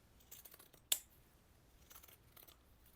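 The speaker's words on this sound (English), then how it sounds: "I'm going to use pinking shears on mine just to get kind of an uneven edge" Pinking shears snip through paper in a junk journal craft session, a single sharp, crisp cut standing out among faint rustling and soft handling noises, quiet and close with no talk.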